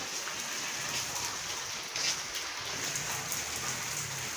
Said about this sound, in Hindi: हुण तेज हो गई है बारिश